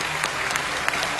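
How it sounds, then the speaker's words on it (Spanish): A studio audience claps for the teachers on a televised singing-academy show, a dense, continuous burst of loud applause with no speech over it. "Yo hoy quiero pararme, ponerme de pie y aplaudirle a los maestros"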